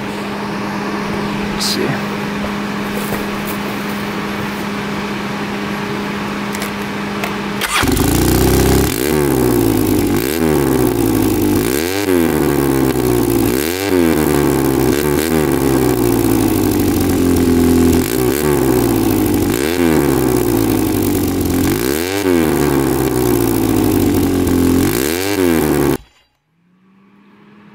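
A 4x4 ATV engine, still smoking, idles and then roars louder as it revs in a steady series of repeated throttle blips that rise and fall. Someone speaks briefly early on, and the engine cuts off abruptly at the end.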